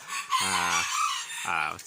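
Bantam chickens at a farm in Dan Kwian, Korat, give two loud close crows, the first long and held, the second shorter, with clucking around them.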